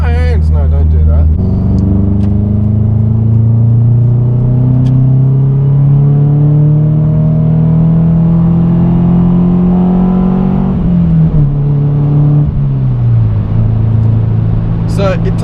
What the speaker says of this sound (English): So it takes a long time to rev this car.